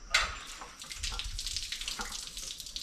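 Green antifreeze drains from a removed lower radiator hose into a bucket, a steady, close splashing pour of liquid that runs continuously throughout with no talk.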